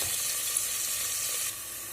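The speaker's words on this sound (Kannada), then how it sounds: "ಫ್ರೈ ಆಗಿದೆ, ಇದು ಕ್ಯಾಬೇಜ್ ಫ್ರೈ ಆಗಿದೆ." Grated cabbage with turmeric and asafoetida fries in a pan with a loud, dense, even hiss of sizzling that drops slightly in level partway through, no voices.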